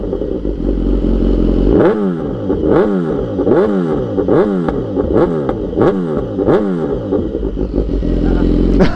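A BMW with a tuned exhaust revs hard again and again at a tuning meet, producing loud, close, repeated rising-and-falling blasts with a crackling edge over several seconds.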